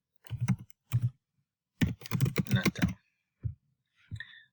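Keys on a computer keyboard are typed in short bursts of close, crisp clicks, with a quick cluster in the middle and a few isolated taps after pauses.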